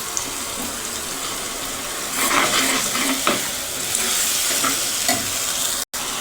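Gram flour paste is stirred into okra curry in a pan: a steady wet hiss and sizzle with a few louder scraping strokes, close and continuous, with no talking.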